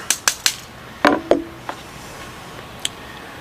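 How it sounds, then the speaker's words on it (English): Several sharp metallic taps in quick succession, then a couple of heavier knocks with a brief ring, followed by a faint final tap in a quiet room. "We'll tap it back on with our vintage hammer."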